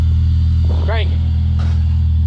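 A supercharged 1950s Chevy with an EM1 Vortech supercharger cranks and idles with a loud, steady low rumble, and the revs swell briefly mid-way. A person speaks close by.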